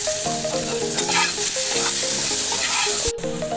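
Okra curry in a pan, seasoned with chili powder, salt, onion and garlic paste, sizzles steadily while a utensil stirs and scrapes through it in repeated close strokes.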